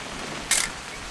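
A camera shutter clicks once in What Remains of Edith Finch, a short crisp snap over a steady hiss of rain, with no talking.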